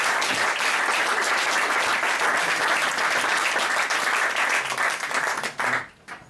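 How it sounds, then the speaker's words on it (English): Wedding guests applaud during the reception speeches, a loud, full burst of many hands clapping that holds steady for several seconds before dying away in a few scattered final claps. "Got bigger applause than I did."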